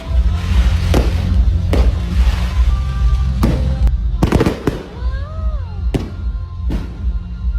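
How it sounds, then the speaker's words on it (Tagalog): Fireworks booming and crackling at a distance in Bansalan, irregular sharp bangs over a constant background rumble, with faint crowd voices. "nakasaksi pa mi sa ilang fireworks kabongga"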